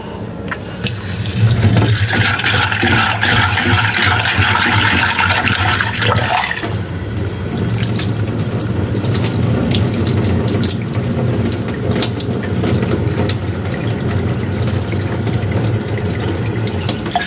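Raw pork being washed under a running kitchen tap, a steady loud gush of water splashing into a sink that shifts tone partway through and then keeps flowing, with no talk.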